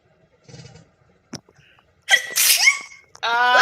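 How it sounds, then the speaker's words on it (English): A single sharp, loud sneeze bursts out after a quiet moment, followed immediately by a high-pitched voice reacting. "You sneezed!"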